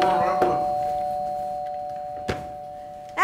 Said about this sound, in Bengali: কলিং বেল বাজছে শুনতে পাও না